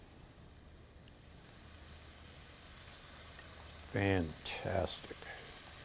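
Peeled shrimp with tails on, going into a hot pan for pad Thai, give a faint, steady sizzle throughout, briefly covered by a spoken word near the end.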